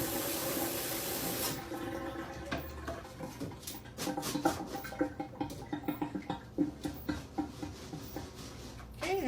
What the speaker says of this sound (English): We'll give these a quick rinse.